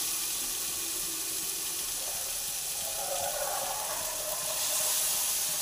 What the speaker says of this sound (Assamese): এতিয়া মই গৰম পানী দিম